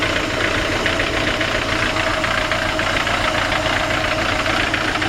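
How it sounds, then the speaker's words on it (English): A Mazda engine fitted in a 1965 Ford F100 lowrider runs at a steady idle, loud and close, with an even mechanical drone and a slight knocking texture that continues without pause. "Great little Mazda engine."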